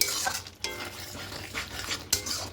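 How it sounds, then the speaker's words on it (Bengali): Yogurt chicken curry stirred with a utensil in a pan on low flame, soft scraping and clinks against the metal over a faint sizzle, with a few sharper knocks at intervals and no voices. "আবার একটু খুব ভালো করে মিশিয়ে নেব"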